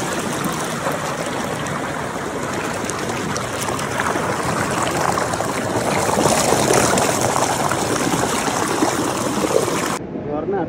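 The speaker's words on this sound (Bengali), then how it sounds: "ঝর্ণা আসলে কোথা থেকে আসে," Water from a waterfall runs over rocks, a loud, steady rushing and splashing wash that stays close and continuous before dropping slightly at the very end.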